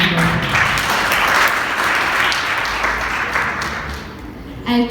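An audience claps for a poet at a spoken-word event on voter registration, steady, fairly loud applause filling the whole moment and easing off just before a final burst.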